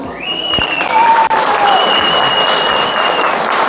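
Wedding guests clap for the bride at a celebration in Hoktemberyan, a steady, dense round of applause filling the room, with faint tonal whistles or music drifting above it.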